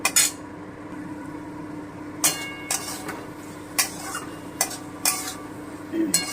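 Moong dal and potol being sautéed in a pan, with a low steady sizzle under repeated sharp scrapes and clinks of a spatula against the metal at irregular intervals, no talk.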